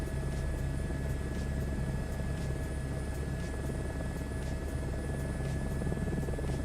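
A helicopter in Microsoft Flight Simulator 2024 keeps up a steady droning rotor and engine sound with a regular thumping beat, constant and fairly loud throughout, with no voices.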